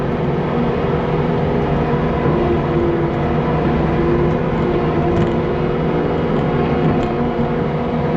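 A Kubota 75-3 skid loader engine runs steadily and loudly for the whole stretch, a dense, even mechanical drone with no talk over it.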